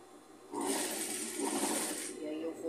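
Sewing machine running at a slow, controlled pace while stitching thick fabric strips for a rag rug, a steady mechanical whir lasting about a second and a half at close range before it stops.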